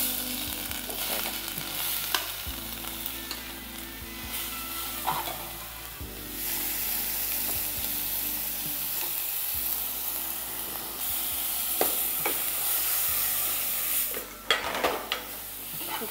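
Carrot sizzles in hot ghee for a long stretch, punctuated by repeated spatula scrapes and clinks against the pan, with a low hum underneath.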